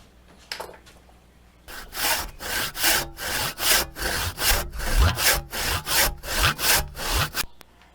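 New 12mm plywood cut by hand with a saw, a quick rhythmic series of about a dozen loud back-and-forth strokes close to the listener after a brief quiet start.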